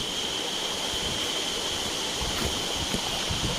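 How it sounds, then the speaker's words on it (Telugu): A jungle waterfall pours steadily in a broad, continuous rush of water, loud and unbroken, with no voices over it. "అదిగండి వాటర్ ఫాల్స్"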